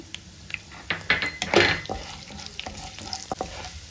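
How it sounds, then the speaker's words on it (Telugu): Tempering seeds crackle and pop in hot oil with a sharp burst of sizzling midway, mixed with spoon clinks and scrapes against a pan. "పోపు గింజలు వేసేసుకుందాము"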